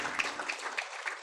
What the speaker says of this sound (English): That was a kind of half-hearted round of applause